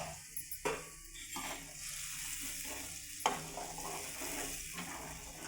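Ground masala paste sautéing in hot oil with bay leaf and cinnamon for a paneer cauliflower gravy, a steady close sizzle with a few sharp clatters of a spoon or pan.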